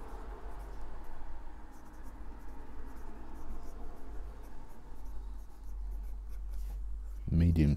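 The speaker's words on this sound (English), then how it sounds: "So let's do the writing sample, because I want to talk to you about the ink that I have in this" A Pelikan M205 fountain pen with a medium steel nib scratches and glides across paper in a steady continuous rustle, fairly close, ending with a louder scrape or bump.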